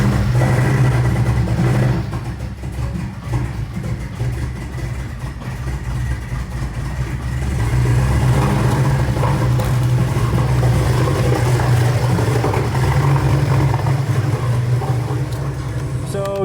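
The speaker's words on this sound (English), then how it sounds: "a rat had gone in and chewed up the high fuel pressure sensor, which caused the car to run like," A 2017 Porsche 718 Cayman engine running rough from a rat-chewed high fuel pressure sensor, a loud, continuous uneven drone with a low rumble that dips briefly and then swells again.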